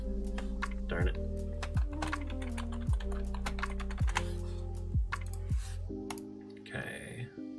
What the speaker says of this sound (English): if you could tell what my password was from that sound of me typing on the keyboard